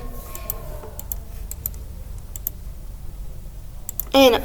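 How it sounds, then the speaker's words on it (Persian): A computer mouse clicks in quick, light, crisp taps at a steady pace, close and fairly quiet, with a brief burst of other sound near the end. "اینجا حالا کلش انتخاب میشه که دوتا کلیک کنین"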